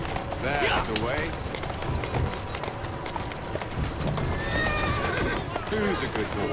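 A horse in the Assassin's Creed Syndicate video game gives a couple of loud whinnies amid clip-clopping hooves and street bustle, with a voice speaking over the scene.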